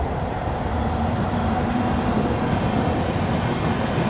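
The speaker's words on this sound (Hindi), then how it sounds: "वहाँ से जो आप लोग ट्रेन आते हुए देख रहे हैं वो आ रही है आप लोगों की मेरठ सिटी सूबेदारगंज" Meerut City–Subedarganj Sangam Express pulling into a station, a loud, steady low rumble of rolling wheels and carriages with no break throughout.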